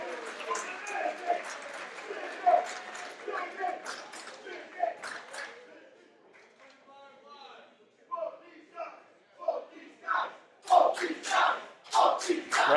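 Crowd noise at a Warriors of Wrestling No Limits championship bout, with a dense roar and shouting that thins midway, then surges again in loud bursts of cheering toward the end.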